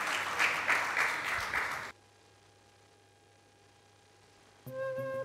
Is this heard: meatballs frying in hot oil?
no